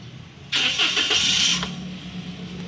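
A Toyota Wigo's engine cranks and fires up, a loud burst of starter and ignition settling into a steady low idle.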